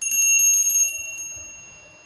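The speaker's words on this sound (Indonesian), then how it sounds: "saya akan melanjutkan hasil kartu rem ini dengan tanda lonceng berbunyi" A single bell strike rings out clearly, its bright metallic tone holding briefly and then fading away over about two seconds.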